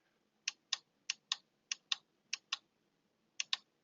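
Eleven crisp button clicks on an Anhay rechargeable LED work light, arriving in quick pairs with short gaps, close and clear against a quiet room.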